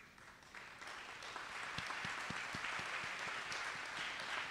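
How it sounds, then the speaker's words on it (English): An audience applauds educators and retired educators at a Georgia gubernatorial candidates' event in Warner Robins. Dense, sustained clapping from many hands fills the room at a steady level throughout, with no speech over it. "please stand up so we can give you an applause"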